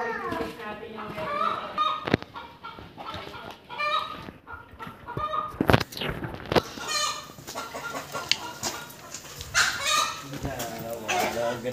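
Chickens cluck and a rooster crows repeatedly in a rural yard in Siniloan, Laguna, with a dog barking now and then and people talking throughout.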